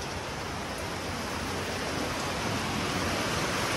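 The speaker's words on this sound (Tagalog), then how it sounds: "sama ng panahon, lakas ng ulan" Heavy rain pours down in a steady, dense hiss, loud and unbroken from start to finish with no voices.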